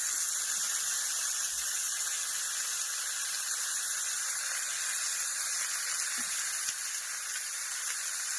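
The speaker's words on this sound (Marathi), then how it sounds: "आता हे घेते टाकून या बोंबेल ते पण तळून निघतं" Bombil (Bombay duck) fish sizzles steadily on a hot griddle, a continuous loud hiss of frying oil with no talking.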